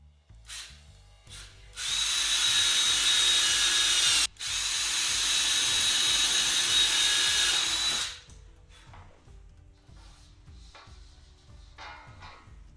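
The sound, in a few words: drilling through R2-D2 dome with 1/8 drill bit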